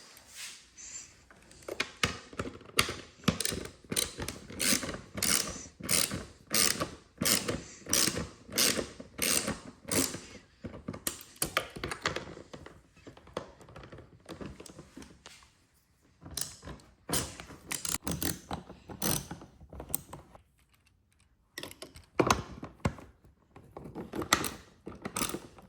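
Repeated quick ratcheting clicks from a ratchet loosening the fastener on the air filter cover of a Jeep Wrangler JL, close and fairly loud, in steady bursts with short pauses and a few clunks.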